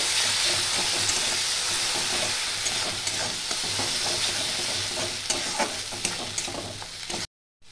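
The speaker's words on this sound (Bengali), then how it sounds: "এখানে আমি দিয়ে দিচ্ছি 2-3 চামচ পোস্ত বাটা। এতে আমি 4টে কাঁচা লঙ্কা দিয়েছিলাম। এটা একটু ভেজে নেব।" Poppy seed paste with four green chillies frying in a pan, a steady close sizzle with scraping stirring strokes throughout, ending in a sudden brief silence.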